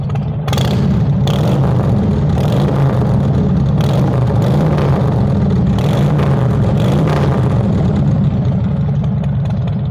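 Motorcycle fitted with a Blow Performance aftermarket exhaust, a loud close-up engine burbling at idle with repeated blips of revving rising and falling over the steady low rumble.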